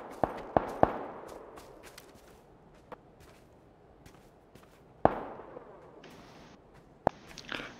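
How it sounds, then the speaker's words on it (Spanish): Gunshots ring out in a video game, a handful of sharp isolated cracks spaced irregularly over several seconds, some louder and nearer, others faint, amid quiet background. "Balazos al sur"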